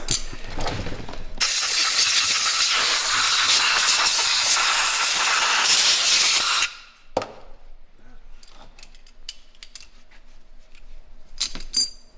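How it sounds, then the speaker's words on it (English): An aerosol can of brake cleaner sprays onto the engine of a 2020 Road Glide Special motorcycle fitted with a 128-inch big bore kit: one loud, steady hiss lasting about five seconds, then near quiet with a few small clicks. "Our friend brake clean."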